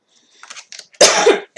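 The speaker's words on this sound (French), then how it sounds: "Désolée, je tousse." A single sharp cough bursts out after a few soft breathy sounds, close and loud, then cuts off.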